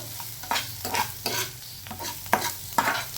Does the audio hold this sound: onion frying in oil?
yes